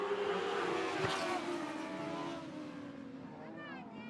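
Dwarf cars roaring together in a heat race on an oval track at Sunset Speedway Park in Oregon, a dense sustained engine drone with rising revs as the pack passes, under a commentator's voice.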